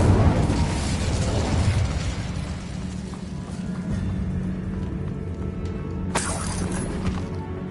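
Incendio fire spell cast in Hogwarts Legacy, a loud crackling burst with a shattering edge. A bright sizzling flare comes near the end, set over a dense game soundscape with no talk.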